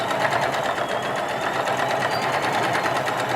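Sewing machine running steadily as it stitches along the edge of fabric, a close, continuous rapid mechanical whir with fine rhythmic needle clatter throughout.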